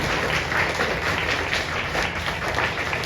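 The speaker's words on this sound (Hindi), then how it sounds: "एक बार ताली बजाएं जोरदार परमेश्वर के लिए" Congregation in a church clapping loudly together, a dense, steady wash of many hands that holds at even strength throughout, with no voices.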